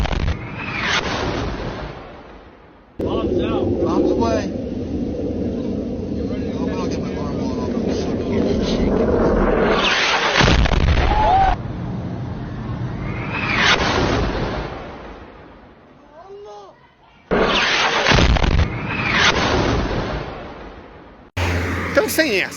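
Footage of the bomb explosion at a hospital in Gaza, with loud broadband roaring bursts and booms that cut in and out across repeated segments, mixed with talk throughout.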